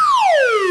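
A loud, close descending slide-whistle tone played as a sound effect on a podcast, sweeping smoothly downward in pitch for under a second.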